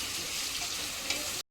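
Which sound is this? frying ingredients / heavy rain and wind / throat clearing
frying ingredients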